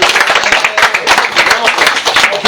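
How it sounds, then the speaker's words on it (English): A small crowd at an outdoor Houston rap battle claps in quick, uneven bursts, close and sharp, with a faint voice in the background. "Y'all clap it up, Fat Boy Jay, man"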